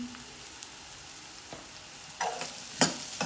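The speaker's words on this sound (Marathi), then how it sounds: "गॅसचा फ्लेम स्लो करून जरा कांदा परतून येणार आहे कांदा आहे तो मऊसर झालेला आहे" Onion sautéing gently in oil with green chili and turmeric over a low flame, making a quiet steady sizzle broken by a few soft spatula scrapes and stirs near the end, with no talking.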